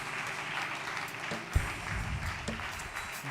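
A church congregation applauds during a Sunday worship service, a steady wash of clapping that stays even for a few seconds, with one louder thump partway through and a faint voice beneath.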